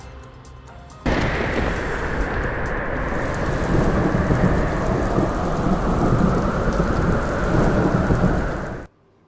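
Heavy rain and rumbling thunder from Cyclone Metmo striking China: a dense, roaring downpour starts abruptly after a quiet second, holds steady and loud for about eight seconds, then cuts off.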